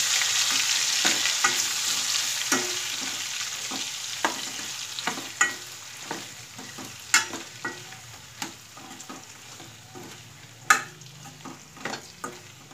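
Stuffed eggplant sizzles steadily in hot oil in a pan while a spoon stirs it, with repeated sharp scraping clicks over the continuous frying hiss, close by and moderately loud.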